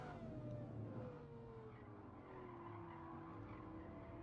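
Aston Martin race car in the Gran Turismo game, its engine droning steadily with a gliding pitch and tire squeal running underneath, moderately loud and continuous with no talk.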